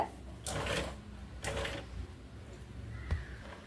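A sewing machine stitching a saree blouse, running in two short bursts of whirring needle action separated by pauses, with a soft click near the end, quiet and close.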